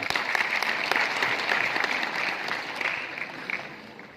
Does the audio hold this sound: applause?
yes